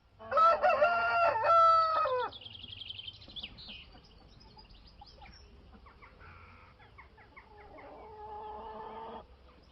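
A rooster crows twice in loud, stretched calls at the start of a radio show jingle, followed by quieter clucking and musical sounds.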